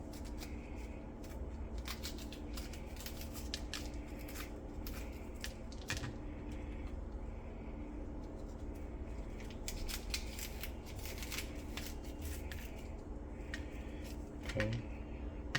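Knife cutting a jalapeno for a Mexican-inspired hamburger, a dense series of close, crisp snips and taps on a board, steady and fairly quiet throughout.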